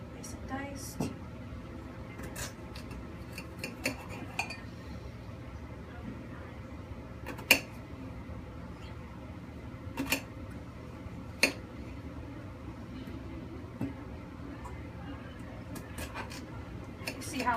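A knife dicing potatoes without a cutting board: scattered light taps and clicks of the blade, spaced irregularly over a quiet kitchen background.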